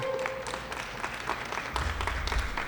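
Applause from an audience at a press conference in Pittsburgh about a real-time safety system: steady, moderately loud clapping continues throughout, with a few louder claps standing out near the end.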